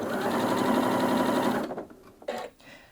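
A Janome Atelier 7 Anniversary Edition sewing machine stitches in a fast, steady, close mechanical whir for about a second and a half, then stops, followed by a few faint clicks and handling sounds.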